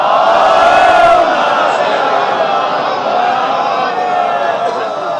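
A large gathering at a Shia celebration of Imam Ali's birth, held at an orphanage, loudly chants religious slogans in unison, a powerful sustained roar of many voices that stays loud throughout.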